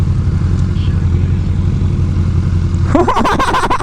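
A motorcycle engine droning steadily at close range, then revving as the rider pulls a wheelie, rising harmonic whine near the end.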